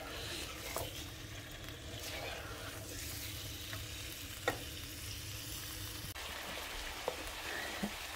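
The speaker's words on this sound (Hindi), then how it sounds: "प्याज और चिकन को फ्राई कर रही हूँ" Onion and chicken fry and get stirred in a pan with tomato, a steady soft sizzle with occasional scraping clicks from the stirring, close and continuous with no talking.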